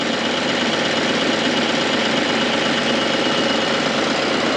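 A tractor engine runs loud and steady as the clutch is slowly let out to pull forward, a continuous close rumble with no voices.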